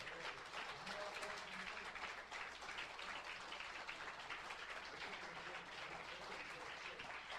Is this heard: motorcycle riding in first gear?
no